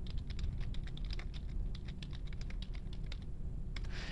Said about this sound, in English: you just simply type directly onto the talking bubble